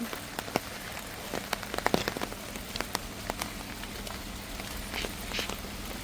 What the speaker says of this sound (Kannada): ಮಳೆ ಬೇರೆ ಬರ್ತಾ